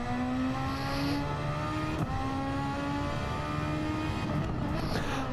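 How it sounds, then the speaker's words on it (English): A Toyota race car at Catalunya holds a steady high-revving engine drone in a low gear, with its whining harmonics running continuously and close. "All this keeping the gears low and high revving out of these straights is to burn off fuel"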